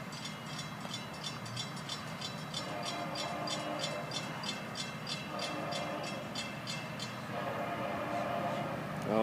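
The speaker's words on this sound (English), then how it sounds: "FEC Train 210 meeting with FEC's 109 in Pineda." An FEC freight train led by locomotives 101 and 140 rolls through Pineda, its bell ringing in a steady rapid pulse over continuous rumbling wheel and engine noise, fairly close and sustained throughout.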